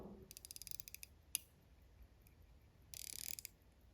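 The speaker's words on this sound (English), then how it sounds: "But it's a hand wind movement. We will start it. So unscrew the crown." A Vostok Komandirskie hand-wound watch crown is turned, giving faint, quick ratcheting clicks in two short bursts separated by a pause, close and quiet.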